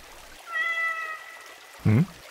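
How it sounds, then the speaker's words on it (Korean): A cat gives one drawn-out, clear meow at moderate distance, followed after a pause by a short, louder low thump. "웬 고양이 한 마리가 차를 뒤따라가네요."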